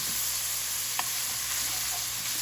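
Turkey bacon frying over a low flame in a pan while being stirred, a steady close sizzle with one brief utensil tap partway through.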